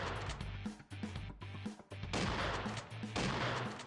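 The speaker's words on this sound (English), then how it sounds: "I'm going to switch back to my shotgun." A shotgun blasts in the game Random Heroes 2, repeated loud booming shots with short gaps between them, set over a pulsing electronic game soundtrack.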